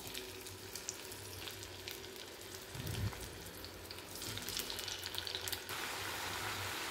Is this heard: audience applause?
no